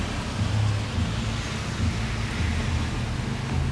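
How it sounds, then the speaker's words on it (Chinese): Heavy rain pours loudly outside a bank building's front entrance, a dense steady roar with deep rumbling underneath that fits thunder, continuous throughout with no voices. "下雨声相当大。"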